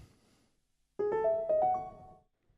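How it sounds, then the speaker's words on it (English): A short melodic motif of a few bright, bell-like notes rings out alone after a brief quiet stretch, then fades into silence. "But one little sequence of notes stuck out."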